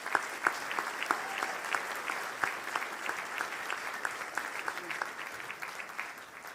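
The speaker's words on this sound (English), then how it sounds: "Please give them a round of applause." Quiet applause rises from an audience at an awards event, with rapid overlapping claps and a few distinct nearer ones at an even level. The clapping tapers slightly toward the end.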